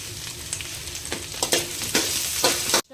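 Chopped onion fries in a pan with a steady close hiss, broken by several sharper scraping stirs and clinks of the spoon against the pan, until it cuts off abruptly at the end.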